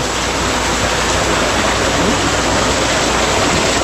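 Steady, loud rush of water gushing hard from a pump on a calamansi farm in Guagua, Pampanga, a continuous broadband gush with no pauses, close by.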